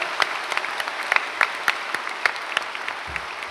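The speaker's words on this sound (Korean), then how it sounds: "주의 종들 오늘 성가대 찬양 박수하겠습니다" A congregation at a special dawn church service applauds the choir, a loud, even wash of clapping with sharper individual claps standing out.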